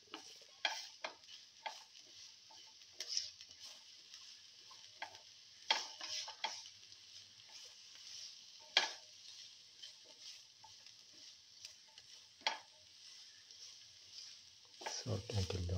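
Salted onions fry quietly in a pan, with a faint sizzle under sharp, irregular clicks and scrapes as a utensil stirs them.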